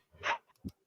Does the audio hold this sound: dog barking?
yes